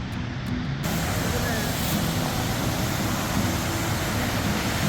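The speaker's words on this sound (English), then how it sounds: "The sound of the rushing water is intense." Big Manitou Falls sends up a loud, steady roar of rushing water, a dense broadband wash that fills the clip from start to finish, close by.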